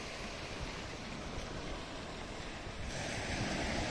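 Sea surf rolls along the shore at Al Khobar, Saudi Arabia, a continuous broad wash of waves mixed with wind buffeting the microphone, no voices present.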